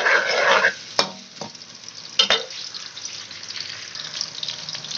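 Onions frying lightly in a pan: a loud sizzle at first, a few sharp clinks of a spoon against the pan, then a softer steady crackle close by.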